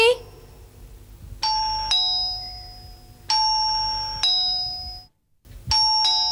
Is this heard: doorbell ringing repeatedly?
yes